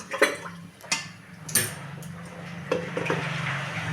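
A metal lid set over a heated kadai holding batter, a few sharp close clanks and knocks spaced out, followed by a low steady hiss under the clatter.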